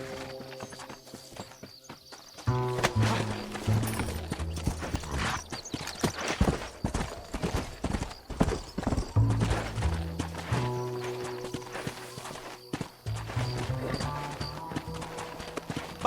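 Galloping horse hooves in the video game Red Dead Redemption, a rapid clip-clop rhythm that starts after a quiet opening and runs continuously, with a brief whinny and some tack rattle over a soft musical bed.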